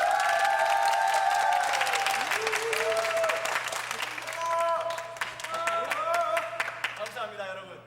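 An audience at a church youth worship event claps warmly for an award recipient, with steady applause running throughout under sustained musical tones and some cheering, then tapering at the end.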